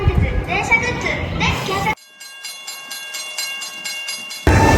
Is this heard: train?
yes